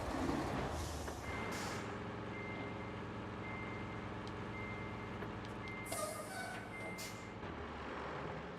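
A dump truck in the Roadcraft game rumbles steadily with a low engine drone while a regular reversing alarm beeps repeatedly, with brief hissing bursts like air brakes, no talking over it.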